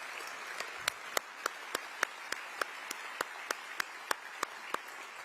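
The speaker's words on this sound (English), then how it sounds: "let's give them a round of applause" Sparse, slow audience clapping at a political campaign event in Iowa, a few distinct hand claps spaced evenly over a steady crowd murmur, fairly faint and distant, with no voices rising above the room.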